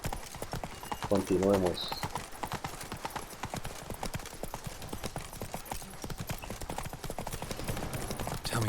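A horse gallops in The Witcher 3, dense rhythmic hoofbeats running steadily throughout at close range, with a short spoken phrase near the start and game music underneath.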